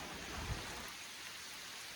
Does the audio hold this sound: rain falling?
yes